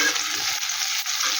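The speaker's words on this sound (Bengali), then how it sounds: "আদাটা একটু ভেজে নেব হালকা করে," Grated ginger frying lightly in a pan, a steady close hiss and sizzle with faint stirring scrapes throughout, no voices.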